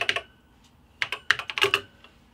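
Keys clatter on a BBC Micro computer keyboard, close and crisp, in two short bursts of clicks separated by a pause, with no voice over them.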